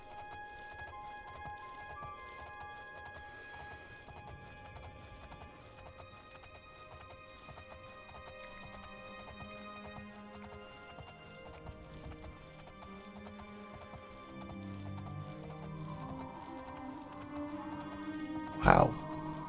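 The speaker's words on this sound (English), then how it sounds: "This is definitely a very loyal steed." Horse hooves clip-clop steadily in the video game The Elder Scrolls IV: Oblivion, a soft, continuous trotting rhythm heard faintly beneath game music, with a brief sharp sound near the end.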